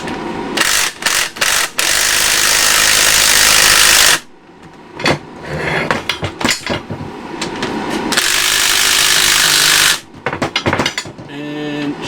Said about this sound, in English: Yes, this is a chrome-plated socket on an impact gun.